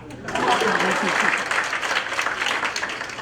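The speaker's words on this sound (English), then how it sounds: "So clap." An orientation audience claps loudly and densely right after a speaker's cue, with a brief lead-in before the sustained applause holds steady and then begins to thin slightly.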